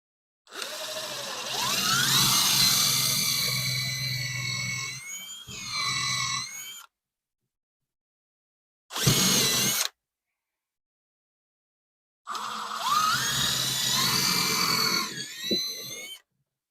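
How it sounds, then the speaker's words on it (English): A power drill bores holes in cedar wood in three close bursts, the first long with the motor pitch rising and straining, a short one in the middle, then a final longer run. "And we can drill us a couple holes."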